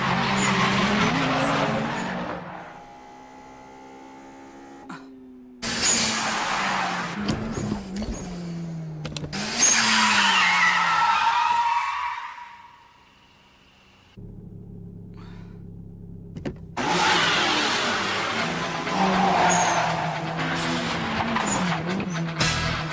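Turbocharged Toyota 86 racing on a narrow mountain road in an anime, engine roaring past with screeching tire skids, bursts rising and falling between quieter gaps and a lower idle drone.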